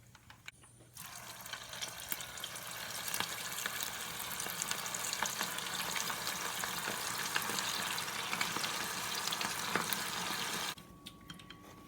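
Green plantain balls fry in hot oil, giving a dense, continuous bubbling sizzle that starts suddenly, holds steady for about ten seconds and then cuts back to a quiet room.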